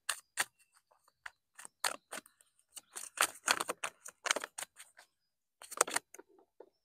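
Tarot cards shuffled outdoors on a beach, giving a run of crisp riffling and slapping bursts in uneven clusters, fairly close and moderately loud, with short pauses between bursts and no talking over them.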